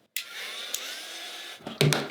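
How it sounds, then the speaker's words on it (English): A handheld craft heat gun blows steadily over a loose watercolor landscape painting to dry the wet paint, a continuous airy whir running for almost two seconds, with a few small knocks and a brief louder burst near the end. "I'm gonna throw the blow dryer on it real fast"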